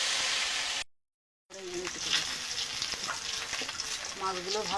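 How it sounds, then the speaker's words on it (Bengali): Lata fish frying in hot oil in a kadai: a steady loud sizzle, a brief silent break, then crackling spatter with occasional stirring. "মাছগুলো ভেজে নেব"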